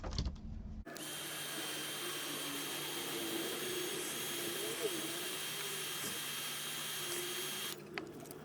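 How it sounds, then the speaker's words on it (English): A heat gun blows continuously while drying craft paint, a steady close whooshing roar that starts abruptly and runs for several seconds before cutting off. "So I'm just going to dry these now with my heat gun."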